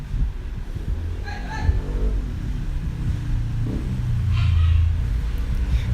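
Traffic passing outside, heard from indoors as a low, distant rumble of road vehicles that swells toward the end, with no talking over it.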